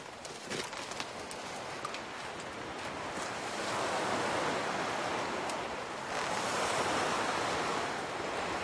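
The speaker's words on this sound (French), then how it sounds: "Il y a beaucoup de vent." Strong wind and sea waves crash against rocky cliffs on the Pontine Islands, a loud continuous roar of surf with gusting wind buffeting the microphone, swelling louder in the second half.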